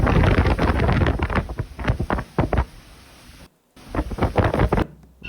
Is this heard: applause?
no